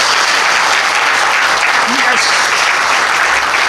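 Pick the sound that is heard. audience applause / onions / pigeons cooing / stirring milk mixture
audience applause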